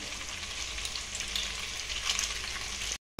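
Pasta and chopped onions frying in a pan give a steady, close sizzle with faint stirring scrapes, running unbroken until an abrupt cut to silence near the end.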